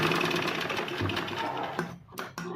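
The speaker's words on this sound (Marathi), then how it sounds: "हे व्यवस्थित एकावर एक ठेवून हे बघा अशा पद्धतीने व्यवस्थित मी शिलाई मारून घेऊन राहिलेली आहे" A sewing machine stitching blouse fabric runs in a fast, steady mechanical chatter up close, then slows and stops near the end with a couple of sharp clicks.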